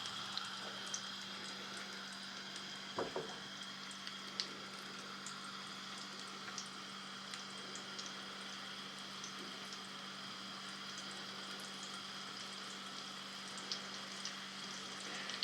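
Potato and dill pastries frying in a pan, a steady soft sizzle and bubbling crackle running throughout at moderate distance, with one brief thump early on and no speech.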